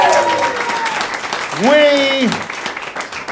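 Small living-room concert crowd cheering and clapping for a band, with a shout and a loud voice on top of broadband applause, while people talk over it.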